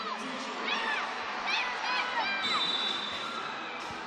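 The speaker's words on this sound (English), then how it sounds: "The crowd getting excited as Rambo fires out some T-shirts." Crowd at a New Zealand National Basketball League arena gets excited during a Canterbury Rams versus Manawatu Jets game as a mascot fires out T-shirts, with steady cheering, shouts and whistles rising in waves.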